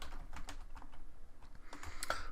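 Python code typed on a computer keyboard, a quick, uneven run of soft plastic key clicks, close and quiet, with no voices.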